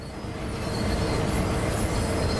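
Freight train couplings jostle as a long train rolls slowly uphill in Train Sim World 5 on the San Bernardino line, a steady low rumble of wagons and clanking slack with no talk.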